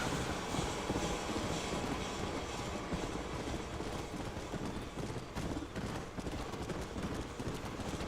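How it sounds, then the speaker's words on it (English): A train rolls past in Red Dead Redemption on Xbox One, a dense, continuous rumble with rhythmic wheel clatter that stays loud and even throughout, with no voices. "Here, train."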